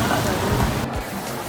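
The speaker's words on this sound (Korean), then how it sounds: "갑자기 비가 오기 시작했어." Sudden rain falling on a sunny day in Kuala Lumpur, Malaysia, heard as a steady hiss that stays fairly even, with faint low rumbles underneath.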